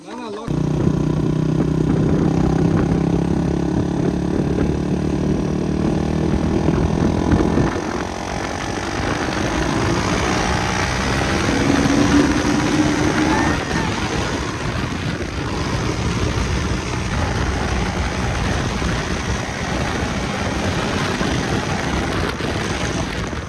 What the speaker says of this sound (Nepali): केटाहरूले बाइक रन्ताउने